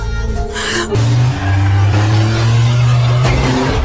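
A car engine revs and accelerates away, a loud steady drone rising in pitch and holding close and strong for a few seconds, set in a horror film scene.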